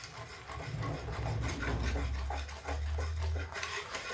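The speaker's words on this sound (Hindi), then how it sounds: "अब इसको चलाते रहेंगे" A spatula stirring thick milkmaid pede mixture in a kadhai, producing a close, continuous scraping and rubbing with irregular strokes, heard alone throughout.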